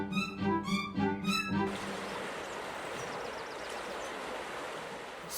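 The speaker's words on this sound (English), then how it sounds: "Here's the river" A rushing cartoon river, the Quicksilver River, as a steady broadband wash of flowing water. It follows a few brief, rhythmic tonal notes at the start, then continues evenly at moderate level.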